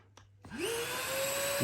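A Numatic Henry Quick cordless stick vacuum clicks on and its motor spins up within a fraction of a second into a steady, close whine with a rising tone, running smoothly and fairly quietly.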